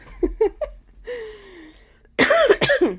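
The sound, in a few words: coughing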